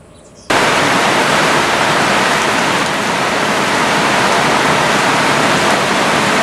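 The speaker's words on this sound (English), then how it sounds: "Got a really bad storm coming up, raining, as you can see." Heavy rain from an oncoming storm pours down outdoors in a yard, a loud, dense, steady hiss that starts abruptly after a brief quiet moment and continues unbroken.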